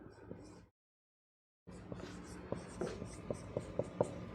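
A marker writes on a board while working through the division rule for exponents in a math lesson, a run of short scratchy strokes after a brief silence, close and fairly clear with no talk.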